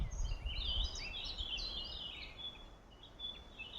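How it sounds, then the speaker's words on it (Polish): Birds sing outdoors in a quiet, clean spot where herbal flowers are gathered for tea, bright chirps and trills repeating over faint background hiss at moderate distance. "Jak pięknie śpiewały tam ptaki"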